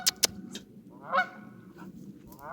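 Geese honk in a few separate calls, two sharp short honks and then longer nasal cries, moderately close over a quiet background.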